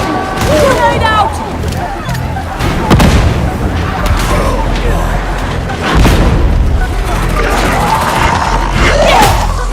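A grenade explodes amid loud combat, with heavy booms and crashing impacts layered over shouted voices and gunfire throughout.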